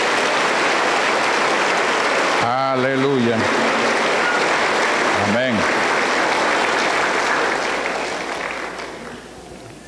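A church congregation applauds through a worship service, a dense steady clapping that fills the whole stretch and tapers off at the end, with a voice briefly speaking twice over it.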